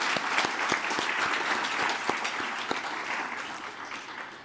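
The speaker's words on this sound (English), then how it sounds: "Can we please give a round of applause to the finalists?" An audience at a science and technology awards ceremony applauds the award finalists, a steady round of clapping that holds for several seconds and fades slightly at the end.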